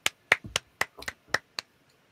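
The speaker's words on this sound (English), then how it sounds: "would you please give a huge round of applause for Azadeh?" A few people clapping at a science showcase session, roughly ten sparse, distinct hand claps in an irregular rhythm, close and fairly quiet.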